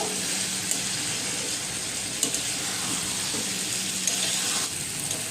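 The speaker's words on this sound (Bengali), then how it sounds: "এখন একটু ভালো করে নেড়ে চেড়ে আমি কষিয়ে নেব" Spiced taro and catla fish sautéing in a pan hiss with a continuous sizzle, broken by a few light clicks of stirring, close and steady, no speech.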